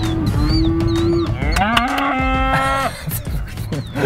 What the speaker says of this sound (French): On doit un petit peu slalomer entre les vaches